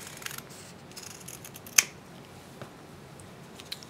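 Scissors round off the corners of a strip of kinesiology tape, giving one crisp, close snip among fainter soft cuts against a quiet background.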